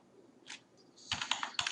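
Close, fairly loud clatter of typing on a computer keyboard, starting with a lone key tap and then a dense burst of quick keystrokes with a couple of sharper thumps near the end.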